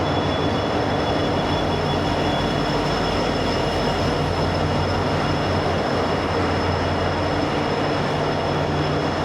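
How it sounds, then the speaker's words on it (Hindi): Passenger train of the Vistadome service on the Bengaluru–Mangaluru line rolling out of a clean station toward Yesvantpur, a steady loud rumble of wagons and wheels with faint squeal, continuous throughout. "एंड ये ट्रेन जा रही है टुवर्ड्स यशवंतपुर।"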